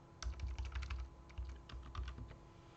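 Someone types on a computer keyboard while editing code in flexbox layout lessons: a quick burst of crisp keystrokes, a short pause, then another run of clicks, close by with no one talking.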